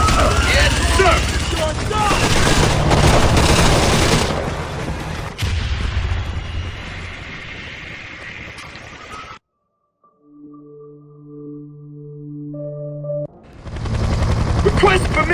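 Heavy gunfire and explosive booms from the video game Splinter Cell: Conviction, loud sustained bursts with shouted voices, then a sudden drop to near silence broken by a few tonal game beeps before the roar resumes.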